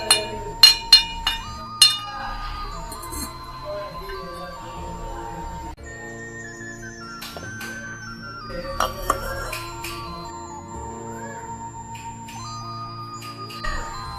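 A ceramic teapot handled in a kitchen, with several sharp bright clinks clustered at the start, then sparse lighter taps and a few more knocks later over a quiet background.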